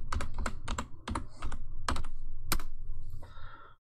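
Fingers type a sudo password on a computer keyboard in quick, close, clicky keystrokes, about ten distinct presses in irregular bursts with brief pauses, with no talking.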